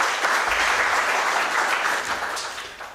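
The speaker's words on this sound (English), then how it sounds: "Please give them a special clap." Sustained applause from a scientific conference audience, dense and steady, gradually tapering toward the end.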